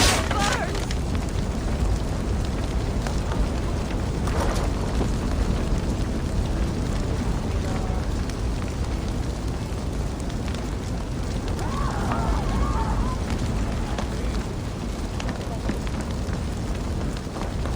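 Flames roar in Assassin's Creed Valhalla gameplay, a steady loud crackling rush of fire lasting throughout with occasional pops and bursts, close and continuous.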